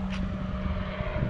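An autogyro drones steadily at a distance overhead, a low engine hum with a faint whirring tone running underneath.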